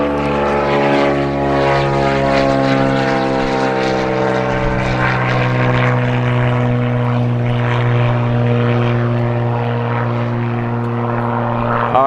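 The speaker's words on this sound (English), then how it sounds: "we're going to let that plane go by here" A propeller airplane passing low near an airport, its engine drone loud and sustained with a steady harmonic hum that slowly shifts in pitch as it flies by, with no talking.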